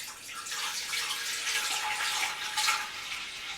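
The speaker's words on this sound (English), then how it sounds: "Let's give you a quick shot of it boiling." Milk boiling in a pot for homemade yogurt gives a steady, close bubbling hiss with a watery, fizzing texture that holds evenly throughout, with no talking.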